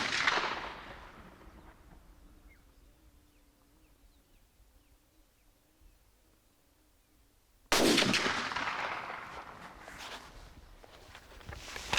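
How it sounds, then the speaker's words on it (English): Two loud gunshots from a scoped .375 double rifle fired off shooting sticks on an African hunt, spaced about eight seconds apart, each with a long rolling echo and faint insects in between. "Linus takes 2 shots at the target with a scoped .375 double rifle"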